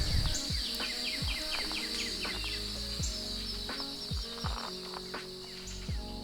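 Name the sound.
birds singing in a wildflower meadow on a June morning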